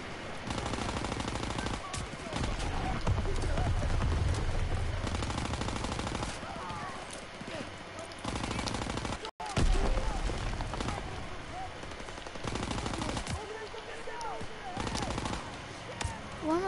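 Sustained automatic gunfire from a World War II video game battle, dense bursts of machine-gun and rifle shots with distant booms, loud throughout with a brief dropout midway and a voice shouting over the shooting.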